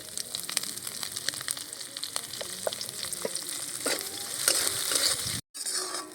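Onion and green chilli fry in oil with whole cumin and bay leaves, a close steady sizzle broken by frequent spatula scrapes and stirring clicks, ending in a brief dropout and no talking.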